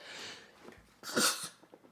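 A single sharp sneeze bursts out at close range, bright and breathy, preceded by a faint indrawn breath.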